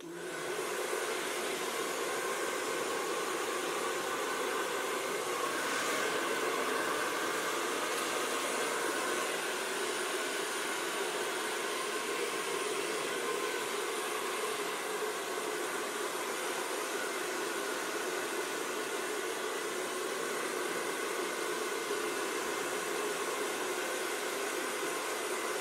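An Agaro hair dryer with two cool speeds and three heat speeds runs in a steady, loud whooshing roar with a high whine, continuous and unbroken, with no voices.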